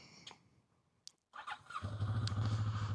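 A new motorcycle at night starts with a brief crank and squeal, then settles into a steady, low, rumbling idle that grows slightly louder and continues.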